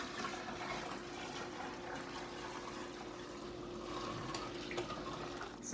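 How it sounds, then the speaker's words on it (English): Cold tap water runs into a homebrew brew pot sitting in a sink, filling it toward five gallons, a faint, steady rushing splash with no talk. "I'm going to add cold water just to the brew pot because it fits into the sink"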